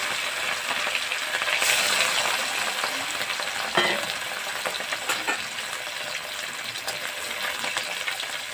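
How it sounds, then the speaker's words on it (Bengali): Catla fish pieces frying in oil in a pan, a loud continuous sizzle with occasional spatters and clinks of a utensil, close and without talk. "মাছটা ভাজা হয়ে গেছে"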